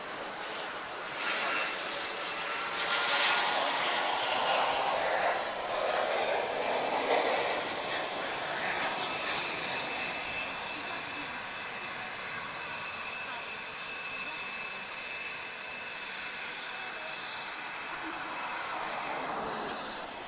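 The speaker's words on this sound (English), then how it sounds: "So TAP Express is inbound now, Embraer E190 long range, arriving from London Gatwick." A TAP Express Embraer E190 jet airliner approaching Lisbon Airport on arrival from London Gatwick, its engine roar swelling and fading as a broad, distant rumble over several seconds, with a person talking over it.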